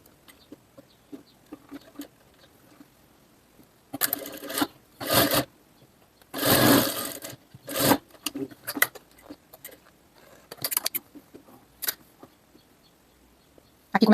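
Sewing machine stitching a blouse seam, several short bursts of fast mechanical whirring separated by quiet gaps and faint light clicks.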